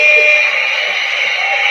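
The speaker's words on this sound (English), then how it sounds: "beep, beep, beep, beep." An electronic alarm or buzzer sounds as a loud, steady, high-pitched tone that holds unbroken for the whole moment, with no pauses between pulses.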